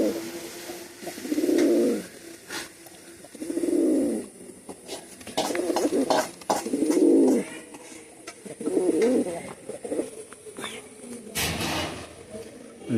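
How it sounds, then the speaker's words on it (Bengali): A set of Teddy Baby pigeons, two males in front and a female behind, give several separate throaty coos spaced a few seconds apart, close by, with faint background noise between the calls. "সামনে দুটো নর কবুতর।"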